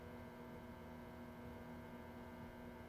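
The record player motor of a 1942 Zenith 7S685 radio phono console, powered up slowly on a variac, gives a low, faint, steady electrical hum with no other sounds.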